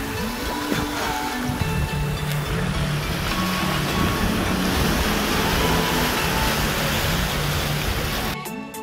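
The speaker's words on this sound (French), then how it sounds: "Le problème, je crois, c'est que c'est la marée montante." Rising-tide waves wash steadily onto a beach in Manuel Antonio, Costa Rica, a continuous broadband surf roar that stays loud and close throughout, with no voices, before cutting off abruptly near the end.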